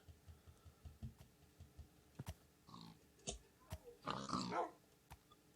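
Synthetic-sounding Minecraft dog growls and grunts with a few sharp clicks, fairly quiet, building to a louder snarl near the end.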